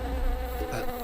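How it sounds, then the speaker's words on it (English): Bees buzz steadily and close up in a horror movie trailer, a continuous droning hum with a brief shift in tone near the end, no voices. "there's bees around you"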